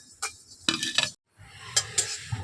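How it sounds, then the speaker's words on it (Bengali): Cumin seeds frying in a wok-style karai, giving bursts of crackling sizzle and clinks of stirring, with a short gap of quiet before the frying noise returns, close and moderately loud. "এই জিরেটা দিয়ে দিচ্ছি কড়াইয়ের মধ্যে। এটাকে ভেজে নেবো।"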